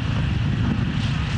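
A light airplane's engine drones steadily during a landing approach, a close, continuous rumble mixed with wind noise, with no talking.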